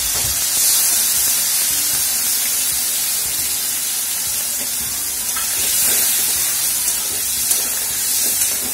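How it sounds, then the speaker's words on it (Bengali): Tomato puree and spice paste sizzle in a hot pan with freshly fried potatoes, a steady broadband hiss that holds throughout with small spits and crackles, close and fairly loud, with no talking. "এর মধ্যে আমি টমেটো পিউরি দিয়ে দিলাম, এই মশলার পেস্টটা বানিয়ে নিয়ে এসেছি এটাও দিয়ে দিলাম"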